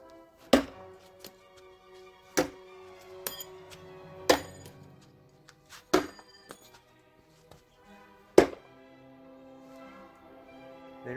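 Small metal mini ninja throwing spikes thud and clink sharply into a target, about six distinct impacts spaced a couple of seconds apart, each with a short metallic ring, and nothing else between them.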